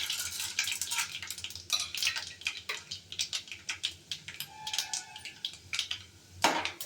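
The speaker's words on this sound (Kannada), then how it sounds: "ಎಣ್ಣೆ ಕಾದಿದೆ. ಸ್ವಲ್ಪ ಸಾಸಿವೆ ಹಾಕ್ಕೊಳ್ಳೋಣ. ಇದು ಚಿಟಪಟ ಅಂದ್ರೇ ಚೆನ್ನಾಗಿರೋದು." Mustard seeds crackle and pop in hot oil in a pan while vermicelli upma is being prepared, giving a busy run of close, sharp spluttering bursts with a final louder flurry.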